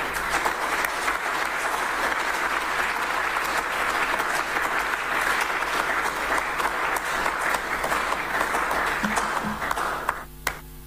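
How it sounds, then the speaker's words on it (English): Audience applause at a public forum on monetizing mineral royalties, a dense, steady round of clapping filling the room throughout, easing off near the end. "A thunderous round of applause for the Honorable George Mreku Duka."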